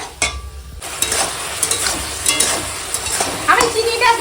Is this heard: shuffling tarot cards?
no